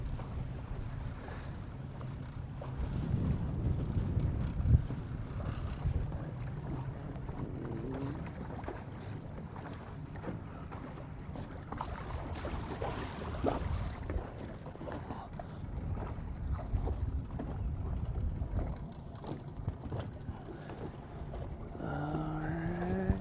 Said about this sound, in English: A little bit more windy than I would like.